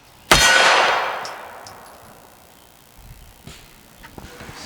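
A single loud rifle shot from a 10.5-inch Palmetto State Armory AKV strikes an RTS Tactical Level 3+ armor plate with a sharp metallic clang that rings and decays over about a second, followed by faint scattered sounds.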